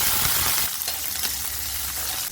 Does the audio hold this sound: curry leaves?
yes